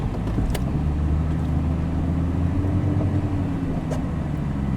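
A green Jeep with an automatic transmission drives through snow, its engine holding a steady, close, low drone with a few faint knocks and no voices.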